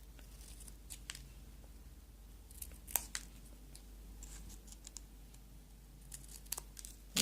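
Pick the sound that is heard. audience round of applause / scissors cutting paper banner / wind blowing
scissors cutting paper banner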